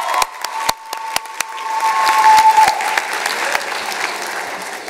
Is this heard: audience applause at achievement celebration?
yes